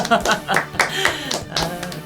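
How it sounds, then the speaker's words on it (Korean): Audience clapping to welcome a speedrunner onto the stage at a retro gaming event: short bursts of hand claps in an uneven rhythm, close and fairly loud, with other sounds mixed among them. "여러분들 박수 한 번씩 부탁드릴게요"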